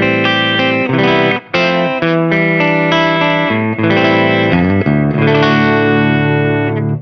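Clean-channel electric guitar with humbucking pickups played through an MI Amplification Iron Duke amp on its UK voicing, a continuous run of ringing chords and notes with a touch of chorus-like shimmer, loud and up close, no voices.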